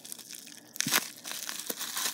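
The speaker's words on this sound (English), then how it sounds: "Gotta peel the tape." Packing tape is peeled and ripped off a cardboard box up close, with a sharp tearing burst followed by softer crinkling and scraping sounds.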